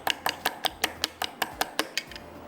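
Chicken is mixed with mustard paste in a bowl: about a dozen quick, evenly spaced clinks of a utensil against the bowl, close and crisp, slowing slightly toward the end.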